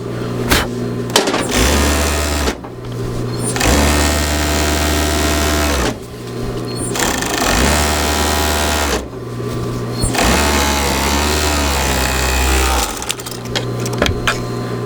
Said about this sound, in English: we're just going to serge or overlock these two shoulder seams